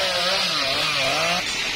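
A chainsaw cuts into a jamun tree trunk near a house, its engine a loud steady drone that rises and dips slightly in pitch as the blade works through the wood.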